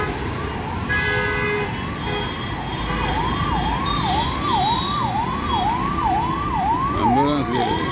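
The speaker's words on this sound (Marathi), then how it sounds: "ॲम्ब्युलन्सचा आवाज येत आहे।" Near India Gate in New Delhi, an ambulance siren cycles in a regular up-and-down wail over continuous traffic rumble, growing a little stronger midway, with horn-like tones mixed in and a distorted yelp at the end.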